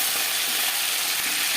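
Aar fish frying in hot oil, a steady dense crackling sizzle that runs evenly throughout at close range, with no voices.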